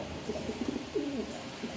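A pair of pigeons cooing nearby, soft low throaty coos repeating in short rolling phrases over a quiet background.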